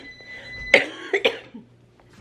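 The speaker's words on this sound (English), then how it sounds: "That cough is not impressive compared to what I sounded like yesterday." A single harsh chest cough from a sick person, followed by two quicker coughs, close and fairly loud, then quiet.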